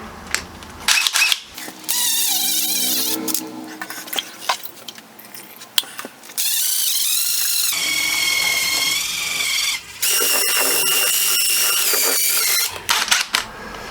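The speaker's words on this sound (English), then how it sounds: "Quickly pop it into your impact gun." An impact gun spins a mud mix ball through a bucket of grout and water in loud, whirring bursts that are separated by short pauses and clatter, close to the listener.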